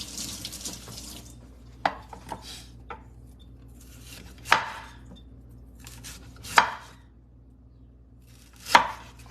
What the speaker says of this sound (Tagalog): hiwain ko ng maliliit kaya para pati luya makain